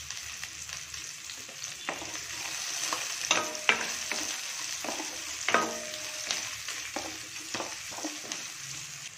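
Garlic and curry leaves frying in a pan for ridge gourd kootu, a continuous sizzle with periodic spoon scrapes and taps against the pan, close and without talking.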